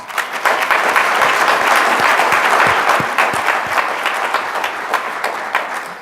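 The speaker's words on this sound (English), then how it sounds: "Give them a round of applause" A crowd at an awards ceremony applauds the honourees, steady loud clapping from many hands sustained throughout with a few sharper individual claps standing out.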